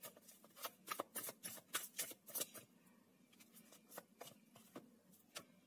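Tarot cards are shuffled and handled close by in a quiet room. Rapid papery riffles and slaps come in uneven bursts, faint overall, with no speech.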